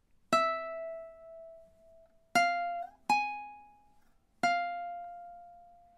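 Ukulele plucking single ringing notes from measure two of a surf-rock tune, four clear attacks in a steady rhythm with sustained, slowly decaying tones and no voices.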